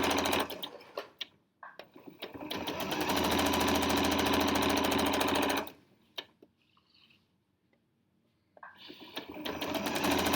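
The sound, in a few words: sewing machine sewing binding onto a quilt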